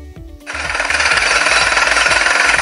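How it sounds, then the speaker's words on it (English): A jackhammer, recorded during a workplace noise dose survey, starts up after a brief pause and then hammers loudly in a rapid, steady pulsing rhythm, close and continuous with no talk. "So again, I can hear is the jackhammer"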